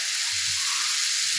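Catfish fries in butter in a pan with a loud, even, close sizzle that holds steady through the whole short stretch, with no talking.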